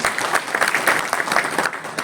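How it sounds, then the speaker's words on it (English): Sustained applause from the audience at a PNGRB road show event for a city gas distribution bidding round, a dense steady crackle of many hands clapping at once, fairly loud and close, with no clear break across the whole stretch. "can we have a big round of applause once again"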